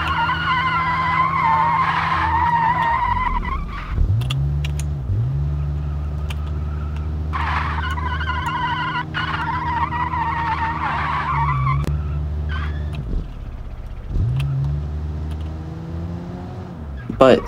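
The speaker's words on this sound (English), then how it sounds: "Did I just do a front wheel drive burnout?" Tires squeal and skid loudly as a front-wheel-drive car does a burnout in BeamNG Drive, the engine droning and revving up and down underneath for several long sustained stretches.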